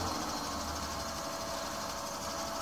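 A 3.0-litre six-cylinder Volvo S90 idles just after a cold start at -27C, giving a steady, even engine drone with no pauses and no voices.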